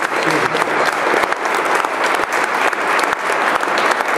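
Sustained audience applause at a rally, dense clapping from a large crowd that continues steadily throughout.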